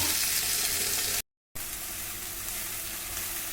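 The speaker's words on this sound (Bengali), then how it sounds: "এরপরে দেব আমি শাপলাটা দিয়ে আমি শাপলাটা করবো ভালো করে ভাজবো।" Water lily stems fry in a pan with garlic and mustard paste, giving a steady, close sizzle with light stirring that breaks off for a brief silent gap before the crackle resumes at the same level.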